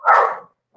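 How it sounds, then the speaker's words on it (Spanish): A single loud, close dog bark from a neighborhood dog, sharp and short, with the start of another bark cut off at the very end. "hay un perro en el barrio"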